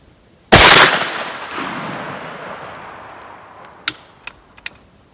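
A single loud, close blast from a 32 gauge shotgun firing a Mr. Hollow Point .510 345 grain slug at a range, with a long fading rumble and a few faint sharp clicks afterward.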